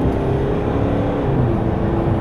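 A 2016 Mercedes-Benz GLC 220d AMG 4Matic diesel under kickdown acceleration, heard from inside as a loud, steady engine drone with rising tone, continuous throughout.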